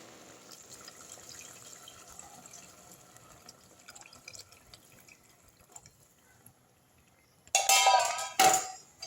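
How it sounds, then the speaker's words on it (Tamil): Tender coconut water is strained and poured into a simmering chicken gravy, a quiet bubbling giving way to a short, loud splashing pour near the end, broken by a brief pause. "இப்போ வந்து இந்த இளநி எடுத்து வடிகட்டி ஊற்றிடலாம்"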